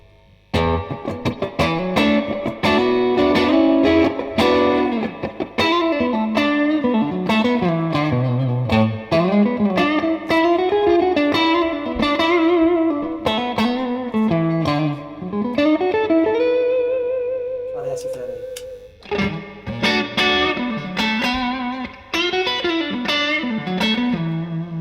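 Telecaster and Stratocaster guitars are played through a Strymon Big Sky reverb pedal, picked phrases and sustained chords blooming into long, washy ambient tails, loud and continuous with no talk.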